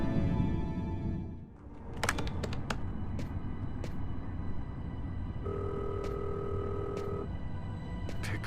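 Telephone rings in the Fahrenheit Indigo Prophecy video game, a few sharp electronic trills and clicks over a low ambient hum, with a steady tone holding for a moment near the end.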